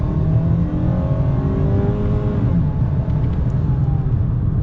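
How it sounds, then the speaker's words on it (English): A 2022 Ford Maverick FX4 compact pickup with an 8-speed automatic accelerates hard, its engine note rising loud and steady through the full stretch with rising harmonic whine, no talk over it. "It's quick for a little pickup truck."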